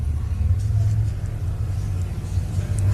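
A two-wheel drive off-road racing truck spins out at a 4x4 adventure park, a deep, steady engine rumble heard from a distance, loud and continuous with faint voices beneath.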